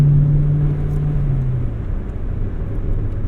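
A replica Integra Type R engine revs hard and holds near the rev limiter, a loud, close, steady buzzing drone that dips slightly after a second and a half.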